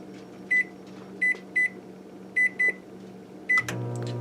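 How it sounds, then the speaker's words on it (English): Microwave oven running on high heat in time cook mode for a pressure-cooker chicken cacciatore, a steady low hum with six short, sharp beeps spread across the keypad presses, then the fan and turntable hum rising louder near the end. "I'm going to put this in and do it for 14 minutes on high heat."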